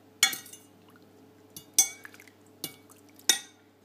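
A utensil stirs a food colouring dye bath for a fleece, giving four separate sharp clinks against the pot at irregular intervals, close and fairly quiet, with no talking.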